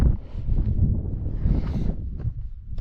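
Gusty wind on a mountain fell buffets the microphone in a continuous low roar, swelling and easing without any other clear sound.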